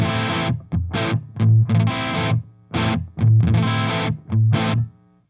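Electric guitar with a light fuzz distortion chops out short, percussive bursts and stabs in a stop-start rhythm, close and loud with no voice.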